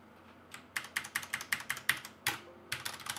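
Keys clack on a Ducky Shine 5 mechanical keyboard, a steady run of about a dozen crisp, close strokes with a brief pause before the last few.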